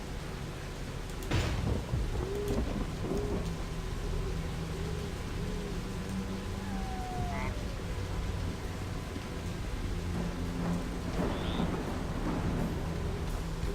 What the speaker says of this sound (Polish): Musimy iść w ten deszcz.